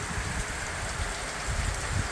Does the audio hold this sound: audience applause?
no